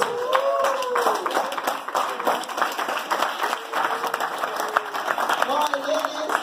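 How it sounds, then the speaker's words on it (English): An audience applauds women in sports with sustained, dense clapping at moderate distance, while voices call out and talk over it throughout. "I'm going to ask all the men to stand and applaud our women in sports."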